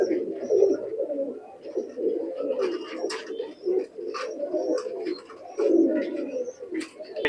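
Pakistani high flyer pigeons in a loft coo in low, throaty, repeated rolls, close and steady, with a few softer chirps and light movement noises in the background.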